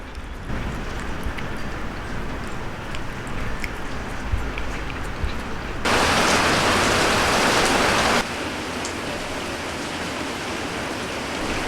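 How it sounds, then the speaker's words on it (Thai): Steady rain hisses down throughout, with a louder, denser surge of rainfall partway through before it settles back to a constant patter. "ตอนนี้ก็คือฝนอะหยุด หยุดตกแล้วนะคะ"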